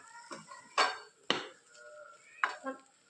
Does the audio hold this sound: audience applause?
no